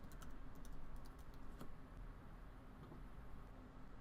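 Keys tapped on a Mac computer keyboard while a folder name is entered, a quiet, fairly steady run of light clicks over low background hum.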